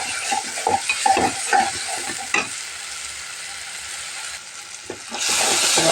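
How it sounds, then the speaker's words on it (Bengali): Onion, ginger and garlic paste fries in a pan for a beef biryani, with a steady close sizzle and clustered spatula scrapes and knocks in the first half, the hiss swelling louder near the end. "পেঁয়াজ কুচিটা আমার প্রায় বাদামি হয়ে আসছে এখন আমি বন্ধুরা আদা রসুন পেঁয়াজ বাটাটা দিয়ে দিলাম"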